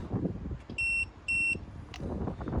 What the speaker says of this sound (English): Beep again to signify that it's off